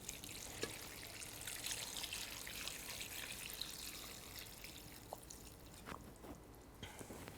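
Hot bone broth, fresh from a slow cooker, pours and trickles steadily into a soup pot for minestrone, a continuous close liquid stream with a few drips and splashes and no talking.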